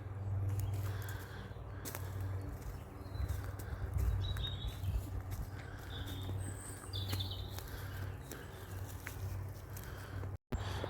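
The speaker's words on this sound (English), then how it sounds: "You can hear all the birds." Crows cawing and other birds calling in a forest, several scattered calls at moderate distance over a steady low background rumble, with faint footsteps and wing flaps.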